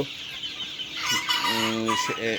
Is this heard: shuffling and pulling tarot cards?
no